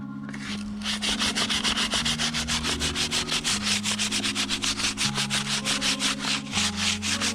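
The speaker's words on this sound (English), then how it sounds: "The sanding paper number 40 is working amazingly." Steady rhythmic rasping of coarse 40-grit sandpaper scrubbing wood, loud and close, with a low motor hum underneath.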